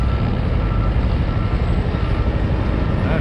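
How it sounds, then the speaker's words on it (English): Helicopters fly along the river near Roosevelt Island between Washington DC and Virginia, a loud continuous engine-and-rotor rumble that holds steady throughout with no speech. "These are the flights of choppers"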